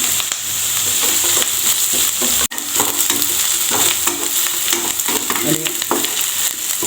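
Onions and crushed garlic frying in a pan make a loud, dense sizzle with stirring scrapes throughout, cut by a brief break near the middle, and no speech.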